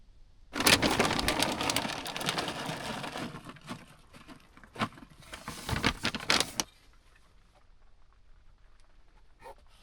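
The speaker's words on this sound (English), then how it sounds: "The rain is picking up for sure." Rain falling on surfaces around a truck campsite during a flood watch in rainy season, a dense close patter that swells in bursts and then thins to a light, quieter drizzle.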